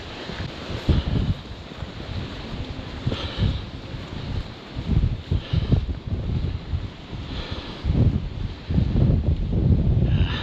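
Strong gusty wind buffets the microphone on an exposed Iceland roadside in April, a continuous low roar with repeated louder surges and no talk.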